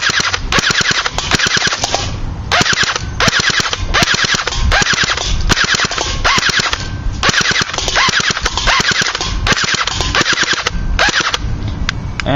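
A CYMA CM 027-J airsoft gun fires on full auto in long, loud rapid bursts separated by brief pauses, a dense mechanical rattle of shots close to the listener with no talking.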